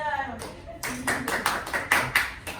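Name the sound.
applause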